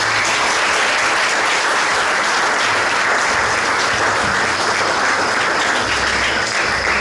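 Audience at a Juegos Florales literary awards ceremony clapping steadily and loudly in a sustained, even wash of applause with no talk over it.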